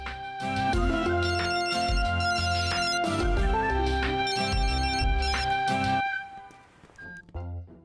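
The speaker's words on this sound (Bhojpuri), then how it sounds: "दीदी फोन बजता, कौनो रॉन्ग नंबर है।" A mobile phone rings with a bright, repeating melodic ringtone, loud and sustained for about six seconds before it cuts off and trails into a few brief sounds.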